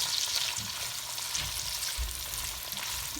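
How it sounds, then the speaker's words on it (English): Jambalaya being stirred in a cooking pot, a steady sizzle with soft scraping and stirring knocks close by, no voices. "We're going to give this a stir."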